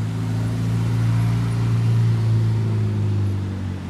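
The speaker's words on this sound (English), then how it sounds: "Got this lovely F8 cruising past over here" Ferrari F8 supercar cruising past, a steady low engine drone with a smooth tonal hum, fairly close and constant throughout with no talk.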